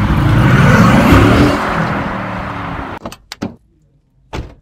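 A Roblox car's engine and door: a loud whirring drone fades away over about three seconds, then several sharp door clicks and thumps follow in near silence.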